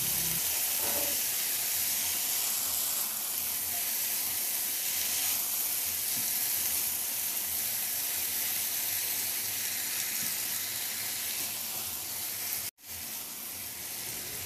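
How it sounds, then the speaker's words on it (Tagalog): Steady sizzle of cabbage and egg stir-frying in a pan with oyster sauce and liquid seasoning reducing, a continuous bright hiss with a brief break near the end. "Ihalo lang din hanggang sa mag-reduce lang din yung oyster sauce at liquid seasoning."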